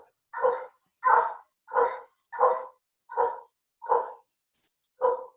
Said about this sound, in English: Sounds like your dog's got an echo.